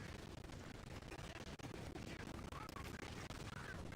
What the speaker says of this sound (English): Is the explosion sound supposed to be 8-bit?